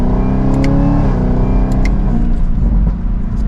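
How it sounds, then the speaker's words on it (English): A 2023 Chevrolet Camaro ZL1 Convertible under acceleration, its supercharged V8 rumbling loud and close with a rising whine layered over the engine note, heard from inside the car. "I love hearing that supercharger whine"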